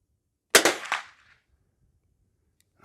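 A Henry H001 lever-action rifle fires outdoors: one loud, close crack followed by a second quick report and a short decaying echo, then quiet.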